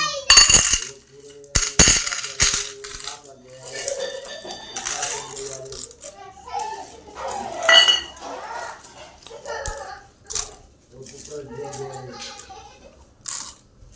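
Loose coins being arranged for a Varalakshmi pooja: scattered metallic clinks and chinks at an irregular pace, close by and fairly light, with soft background voices at times.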